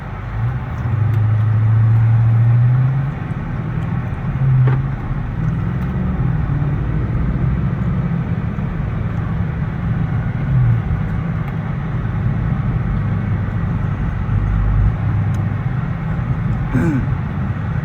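Dodge SRT392 V8 with a muffler delete rumbles steadily from inside the cabin while driving, a deep continuous exhaust drone with a louder swell early on and no talking.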